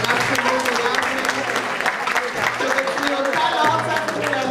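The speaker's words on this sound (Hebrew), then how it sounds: "אני רוצה לקדם בברכה ובמחיאות כפיים" An audience at a school graduation party in Yavne applauds, with dense, sustained clapping from a crowd while a voice speaks over the public address throughout.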